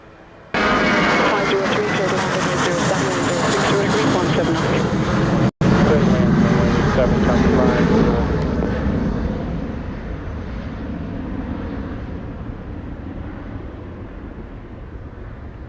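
An airliner on final approach to runway 7 at Sangster International Airport, Montego Bay, Jamaica, drones steadily and loudly for the whole stretch, its engine roar easing slightly toward the end, with a radio voice heard over it.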